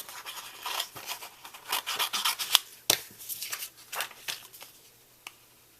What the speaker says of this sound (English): Now I'm just going to go ahead and cut this out around, leaving a little bit of a border